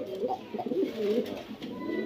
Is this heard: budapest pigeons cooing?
yes